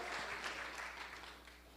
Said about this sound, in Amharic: ይስጠን የምትሉ አጨብጭቡ ለሰራዊት ጌታ ለእግዚአብሔር